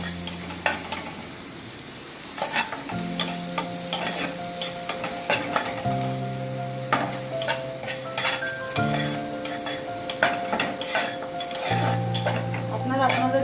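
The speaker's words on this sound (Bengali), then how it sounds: "পেঁয়াজটা দিয়ে দিয়েছি কড়াইতে" Onions sizzle in a kadai while being stirred for mushroom cream soup; scraping spoon strokes and clinks sound up close over the frying, and steady sustained tones run underneath in shifting blocks.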